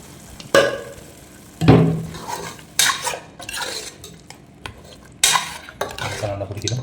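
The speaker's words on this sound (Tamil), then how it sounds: "அப்படியே மசாலா ஒரு 5 நிமிஷம் ஃப்ரை ஆகட்டும்" Metal utensils scrape and clank against a pan in several separate stirs, with a soft sizzle of masala frying in oil underneath between strokes.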